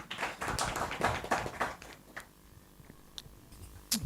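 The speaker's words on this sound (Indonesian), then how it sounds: "Tepuk tangan untuk Mas Fauzi" A small audience claps for a guest named Mas Fauzi at an Indonesian talk session, a brief burst of scattered, fairly close handclaps that thins out after about two seconds into a few isolated taps.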